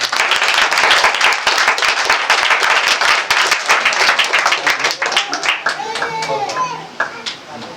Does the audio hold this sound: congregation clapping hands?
yes